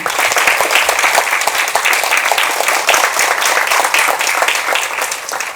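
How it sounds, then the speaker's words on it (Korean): Loud, dense applause from a seated audience at the opening ceremony of a 2023 future-education forum in Paju, a continuous crowd of clapping hands sustained for several seconds with no speech over it. "새 분의 공동위원장님께 다시 한번 큰 박수 부탁드립니다"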